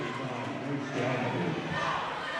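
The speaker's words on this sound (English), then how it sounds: "Home crowd starting to get into it. The noise level, decibels are up." A home crowd cheers steadily at a girls' Class 6A district semifinal basketball game, a continuous wash of voices and shouts that swells slightly partway through, with a commentator's voice faintly underneath.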